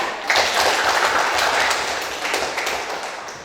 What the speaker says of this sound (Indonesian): baiklah kita tepuk tangan